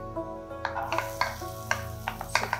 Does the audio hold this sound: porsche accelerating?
no